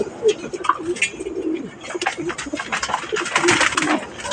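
Breeding pigeons coo repeatedly in a loft, soft throaty calls layered with faint chirps and rustling, close and steady throughout.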